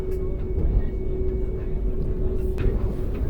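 A Vande Bharat sleeper train crosses the Bogibeel rail bridge over the Brahmaputra, heard from on board as a constant heavy rumble with a faint steady tone running through it.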